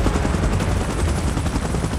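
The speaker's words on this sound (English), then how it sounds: "Chopper in position." Helicopter rotor noise, loud and continuous, with a dense rapid chopping pulse filling the whole stretch, close by and steady.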